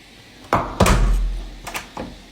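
A door being tried and rattled while locked, with a sharp knock near the start, then a loud thud and a rumbling bang, followed by two softer clicks of a handle.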